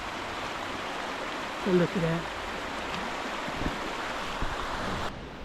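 A gentle river in the Aberglaslyn Pass, Snowdonia, gives a steady wash of flowing water, with a person speaking briefly over it.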